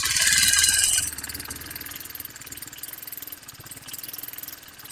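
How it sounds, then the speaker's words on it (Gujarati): A TVS Apache RR 310 motorcycle engine idles quietly and evenly with a steady rhythmic thrum, close by, after a brief hissing burst at the start. "તમને ઇન્જિનનો વોઇસ સંભળાય તો એક્ઝોસમાં પણ કોઈ વોઇસ નથી એકદમ સાયલેન્ટ છે ઇન્જિન"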